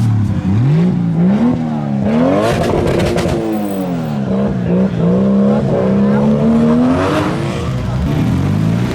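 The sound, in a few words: Ford Fiesta doing a burnout, tyres squealing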